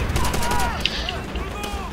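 Distant battle gunfire rumbles in Call of Duty: World at War during a Pacific landing mission against Japanese troops, a steady low wash of shots and blasts with one sharper crack, under faint game sounds.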